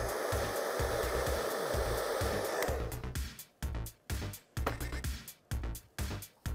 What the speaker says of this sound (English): You don't need to put the hairdryer on a fast setting, just a nice, slow blast of air will help.